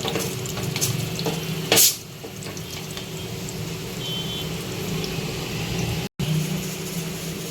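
Urad dal and chana dal fry in hot oil for tomato bath upma, giving a steady close sizzle throughout, with a brief sharper burst near the start and one very short dropout.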